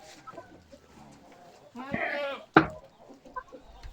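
Goats give a couple of short bleats, close by, at a farm where they are fed leaves directly; the calls stand out over quiet background rustling with faint voices.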